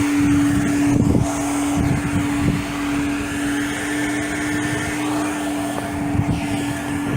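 Steady, loud mechanical roar of car wash equipment, a constant blower-like hum with a persistent tonal drone and occasional rumbling surges, filling the whole stretch without speech.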